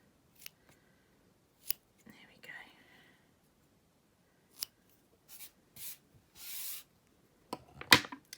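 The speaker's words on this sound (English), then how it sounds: "I'm just going to trim, actually if I just trim those actually as part of the lengths" Scissors trim loose thread ends on a handmade yarn tassel, a few soft, quiet snips spaced apart amid near silence, with brief faint rustling.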